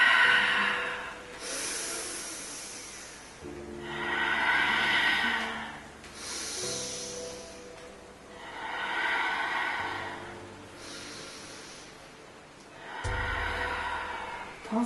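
Slow rhythmic breathing during a Pilates exercise, with several long, soft exhales and inhales alternating at a steady pace, close and fairly quiet.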